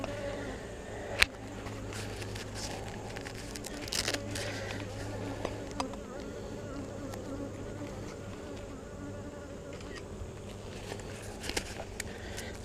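Honeybees swarm and buzz around an open hive during an inspection, a dense continuous hum lasting throughout, close by, with a few sharp clicks and knocks of equipment handling.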